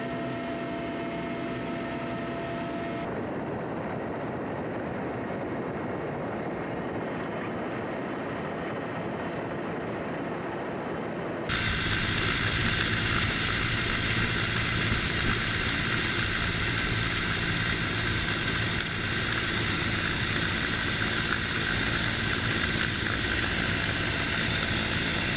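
A rescue helicopter hovers during a training exercise in Kamchatka, its engine and rotor giving a continuous, droning roar that grows abruptly louder and brighter about halfway through, with no voices.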